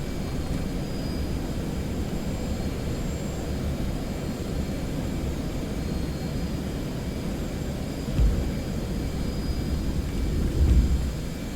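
Jet aircraft engine spooling up in the DCS flight game, a steady loud roar with a broad rushing texture that holds throughout, no talk.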